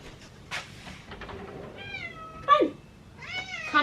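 Cat named Tesla meowing at a door to be let in, several drawn-out, rising and falling meows spaced apart, fairly close.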